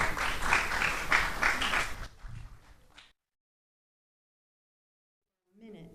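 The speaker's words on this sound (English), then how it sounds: "Let's clap Georgia." An audience applauds at a recycling competition awards ceremony in Treasure Beach, Jamaica, a dense burst of clapping for about two seconds that thins out and stops, followed by silence.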